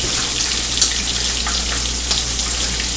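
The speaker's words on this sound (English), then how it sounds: "So I'm going to let that bacon cook a little bit more on that side before I flip that over" Bacon fries in a pan with a steady, dense sizzle and crackle that stays loud and close throughout, with occasional brighter pops and no voices.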